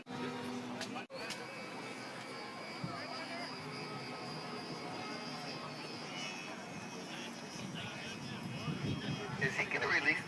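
A light radio-controlled model airplane drones overhead at an outdoor model airplane show, its engine a steady distant hum under people talking nearby.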